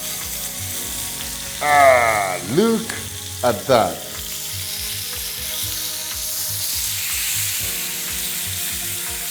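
Pork sizzling and frying in a pan after a flip, a steady crackling hiss that runs the whole time, with a brief stir or scrape near the start and a short spoken comment over it.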